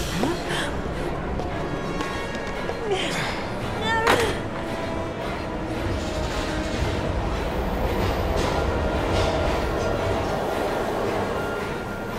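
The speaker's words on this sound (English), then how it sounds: "We've got to get on that train, Ethan." A moving train in the video game Heavy Rain gives a steady rumbling rattle with clanking wheel noise and a few metallic squeals, continuous and fairly distant throughout.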